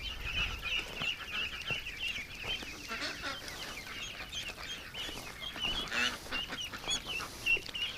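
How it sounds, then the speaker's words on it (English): Ducklings and ducks call in a busy outdoor chorus, with many high repeated peeps and some quacking, moderately loud and continuous throughout. "Come on, ducks."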